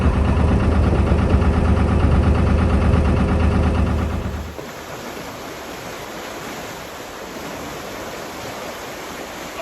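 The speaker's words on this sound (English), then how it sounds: "I'm glad I tied my boat on well, with all this water gushing out." Loud rushing water gushing and churning near a moored narrowboat, a powerful roar that drops to a softer, steady flow partway through.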